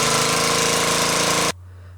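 A pressure washer blasts steadily against a bull elk hide being cleaned down to bare skin, a loud, even roar with no talk that cuts off abruptly partway through, leaving a low hum.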